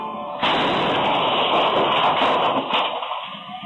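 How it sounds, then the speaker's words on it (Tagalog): A loud, sudden burst erupts on a residential street during a late-night New Year celebration with music and feasting, a single broad roaring blast that lingers about three seconds before fading, captured from a distance by a security camera. "Nagkaroon ng magkasunod na pagsabog."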